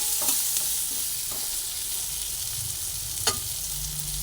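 Potatoes fry together in a hot pan for a watermelon rind curry, giving a loud, steady sizzle with a few spatula scrapes and taps as they are stirred.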